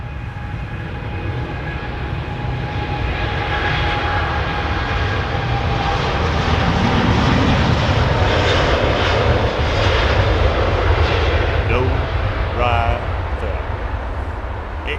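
Jet engines of a Boeing 787 Dreamliner at London Heathrow Airport make a loud, sustained roar and whine that builds toward the middle of the recording and holds steady, with people talking over it.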